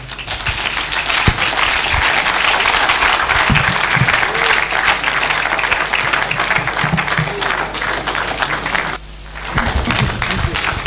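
A lecture audience at a faculty of administration week event claps loudly and continuously, a thick crackling roar that briefly dips near the end before swelling back.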